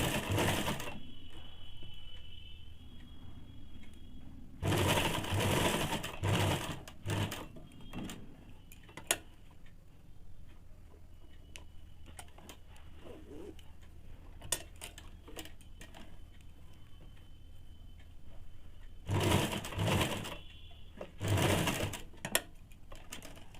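A sewing machine stitching the side panel of ladies' pants beside the zip, running in several loud bursts of rapid mechanical whirring separated by quieter pauses with small handling clicks.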